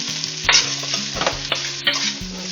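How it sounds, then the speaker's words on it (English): Soup with a little sugar stirred in a pot over heat, a spoon scraping and knocking against the sides in repeated strokes over a soft steady sizzle, close up and without voices. "And let's stir it for about 5 minutes"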